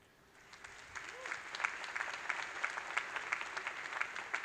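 Graduation-ceremony crowd at a spring undergraduate commencement bursts into applause, swelling from quiet to a full, even roar of many hands clapping across a large hall, with a faint voice faintly audible underneath.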